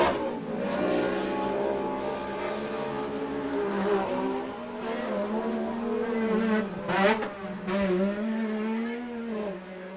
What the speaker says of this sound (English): That's Tillman Ewing's car